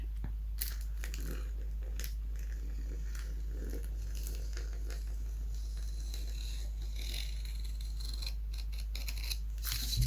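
Scissors cut through canvas paper in a series of close, crisp snips and crunching slices at an irregular pace, with no talking.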